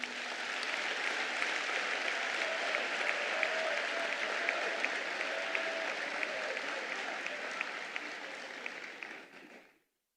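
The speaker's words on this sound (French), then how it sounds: "Je vous demande de les applaudir chaudement." A large congress hall of party delegates breaks into sustained, dense applause with scattered whistles, holding steady before fading out at the end.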